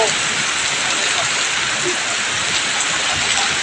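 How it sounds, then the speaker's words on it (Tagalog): Heavy typhoon rain pours down steadily in Malvar, Batangas, a dense, loud, unbroken hiss of water hitting surfaces with no pauses. "Ayan po ang ulan dito."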